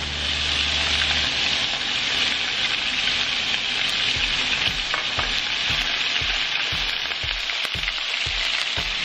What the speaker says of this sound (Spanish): voy a agregar el jugo de chipotle directo a las albóndigas